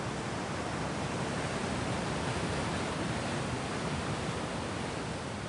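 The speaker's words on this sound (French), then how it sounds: "Une chute de 27 mètres de haut." Steady, dense roar of the 27-metre Saut du Doubs waterfall, a continuous broadband rush of falling water that stays even and loud throughout with no voices.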